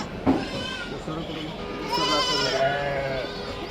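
Goats bleat at a busy outdoor goat market in Haveri, Karnataka, India, several wavering calls rising over steady crowd chatter and background voices.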